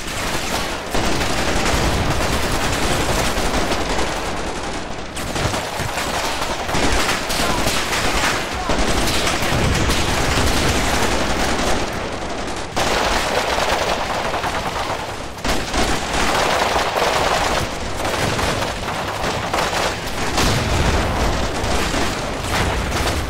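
Wargame video game battle with continuous heavy gunfire and return fire, machine-gun bursts and explosions layered into a dense, loud barrage that barely lets up.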